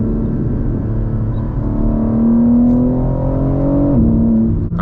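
A 2024 BMW M4 Competition xDrive pulls hard in Sport Plus, a loud engine drone rising steadily in pitch, then a quick dip as it shifts gears before climbing again, heard from inside the cabin.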